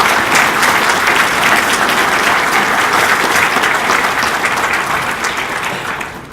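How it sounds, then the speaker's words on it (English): An audience at a police awards ceremony claps steadily and densely, a sustained wash of applause that tapers off slightly toward the end. "So we applaud his day-to-day hard work and efforts of Officer Jason Clark"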